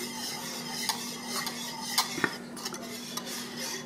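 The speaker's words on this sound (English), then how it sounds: "You're going to open the door and stir it with a whisk." A whisk stirs thickening banana pudding with egg yolks in a microwave bowl, making soft, quiet scraping and clinking taps at an irregular rhythm.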